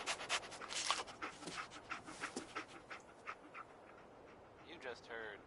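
Dogmeat, the dog companion in Fallout 4, pants rapidly and gives small whimpers and yips close by, with game sounds and faint speech mixed in.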